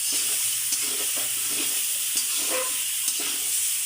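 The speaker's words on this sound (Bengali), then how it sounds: "এটাকে ভালো করে কষিয়ে নিতে হবে" Onions and raw cumin paste sauté in a pan for a singi fish and taro curry, a steady sizzle and hiss with soft, repeated scrapes of a spoon stirring throughout.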